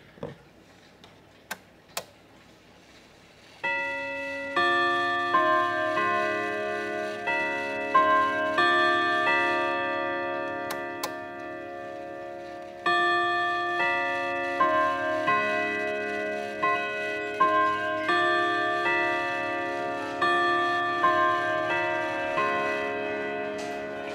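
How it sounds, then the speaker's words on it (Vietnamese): A large French Verdep clock chimes a long melodic sequence of clear, ringing bell tones. The notes strike in repeated phrases and sustain in layered overtones, close and resonant, preceded by a few faint ticks and with no talking. "Em cũng thử sơ qua một chút về cái tiếng chuông của chiếc Verdep mà em đang giới thiệu đến các bác đây."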